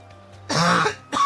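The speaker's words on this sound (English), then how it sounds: "Dude, I can't stop coughing." Two short, harsh coughs, the first louder and longer, the second a quick follow-up, close to the microphone in an otherwise quiet room.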